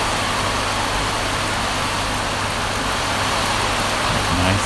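Heavy rain pours steadily outside a house, a dense, loud, continuous wash of drops on surfaces and foliage with no pauses.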